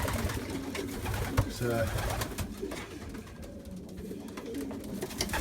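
Pigeons in a loft give soft cooing calls amid rustling, close and moderately loud, while someone talks over them.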